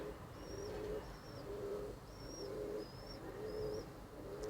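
Repeated soft pigeon coos from a loft at a Khulna pigeon market, a rhythmic series of low calls with faint chirps above, quiet and close against light ambient noise.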